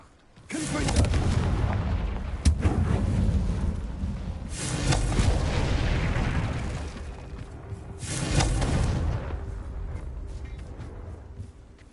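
Confringo spell blasts in the video game Hogwarts Legacy on PS5 land as a run of loud, booming explosions, three big bursts with rumbling decay between them, and no talk over them.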